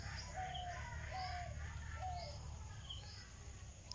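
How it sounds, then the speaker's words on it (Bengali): Faint dove cooing drifts in from a distance, with repeated soft calls over a quiet outdoor hum on a winter morning in a village; nobody talks. "সাথে একটা ঘুঘু ডাকছে এখানে"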